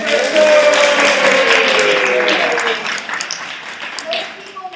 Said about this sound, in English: I want to give a big round of applause to Rachel, my operations manager.